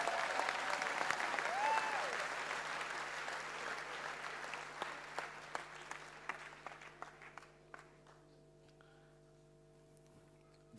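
Congregation at a church gathering in Savigny-le-Temple breaking into loud, sustained applause that gradually thins to scattered individual claps and fades out near the end.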